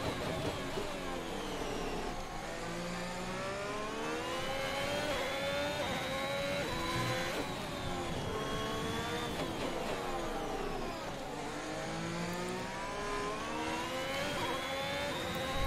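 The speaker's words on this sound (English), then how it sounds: "We have a severe engine issue" F1 2021 video game racing car suffering an engine failure, a continuous high-pitched engine whine rising and falling through gear changes, steady and close, with no talk.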